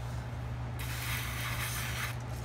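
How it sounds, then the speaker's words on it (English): A handheld spray wand mists soap and water onto aphid-infested plants, a steady hissing spray that starts abruptly partway through and continues evenly over a low background hum. "the trick to the wand here, guys, is that I can spray them"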